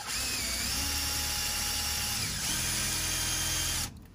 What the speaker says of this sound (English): So I'm using a number 11 drill bit.